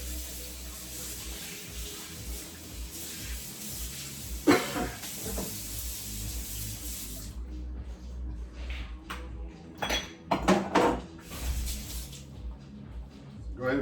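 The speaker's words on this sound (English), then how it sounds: "Go ahead and wash your knife down." A kitchen knife being washed under a running sink tap: a steady hiss of water flow that stops partway, then clatters and splashes of handling close by, with brief talk.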